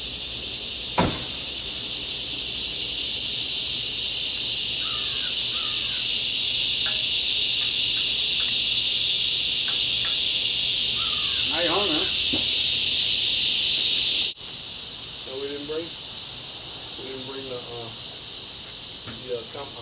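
Honey bees drone in a steady, high buzz during a hive removal in River Ridge. The sound drops suddenly in level partway through, and people talk intermittently beneath it.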